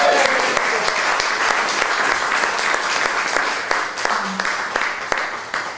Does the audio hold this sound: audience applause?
yes